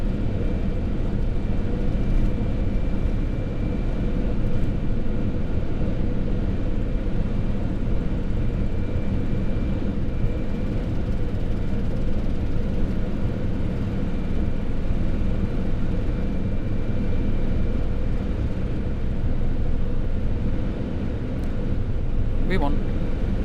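A Boeing 747 jumbo jet's engines at takeoff thrust, heard as a steady, heavy roar and rumble from inside the cockpit under crew callouts and talk.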